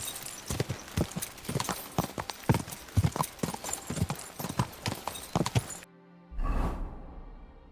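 Horse hooves clip-clop in a brisk, steady rhythm in the video game Kingdom Come Deliverance 2, close and crisp, before stopping abruptly and giving way to a short whooshing sound.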